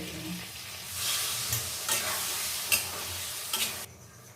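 Paneer chilli sizzles and fries in a pan with cornflour slurry while a spoon stirs it, giving steady crackling hiss and a few sharp scrapes, close and without talking.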